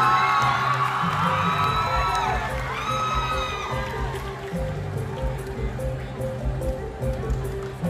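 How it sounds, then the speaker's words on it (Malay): A crowd watching the catwalk at the Unduk Ngadau Kaamatan 2025 pageant cheers and whoops loudly, with high shouts rising early on before settling into sustained, even crowd noise. "Bandar Raya berikan tepukan gemuruh"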